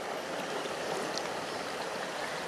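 The Kacha River flows after rainfall through its bed at Aivovoe village, a steady, even rushing of stream water that continues unbroken throughout, with no voices.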